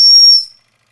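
A Wilesco D10 toy steam engine fitted with a gas tube burner and an exhaust steam and condensate collector gives a loud, close, whistling hiss of steam that lasts about half a second and then cuts off to silence.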